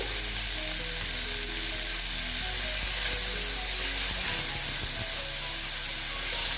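Green mango chutney fries with turmeric in a pan, producing a steady, close sizzle and hiss with faint stirring, heard alone.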